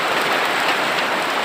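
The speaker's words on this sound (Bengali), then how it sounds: "আমাদের রাজশাহীতে অনেক বৃষ্টি হচ্ছে ভাই।" Heavy rain pours down in Rajshahi, a dense, loud, unbroken wash of drops striking surfaces nearby, with no talk.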